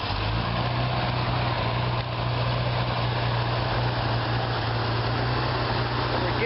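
A rebuilt Chevrolet Corvair engine idles steadily at fast idle, a continuous low, even rumble with a constant drone running throughout, close and fairly loud, with no voices over it.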